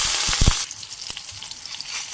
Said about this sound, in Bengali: তেলের মধ্যে কালো জিরে ফোড়ন আর দেবো লঙ্কা